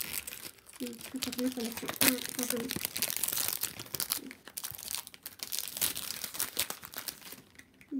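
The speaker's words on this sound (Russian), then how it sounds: "Разрывать упаковку." Packaging for serum concentrates is ripped open close up, giving crinkly tearing bursts that come and go, with a voice speaking briefly in between.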